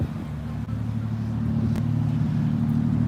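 Heavy truck passing on a street, a loud steady low engine rumble and drone that holds throughout, close and constant with no talk.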